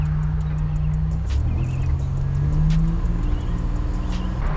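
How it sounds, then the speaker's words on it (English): A modified 1987 Buick Grand National engine rumbles loud and low, its pitch rising and swelling as it builds boost, with a steady drone throughout. "I'll boost it so you can see it from the outside"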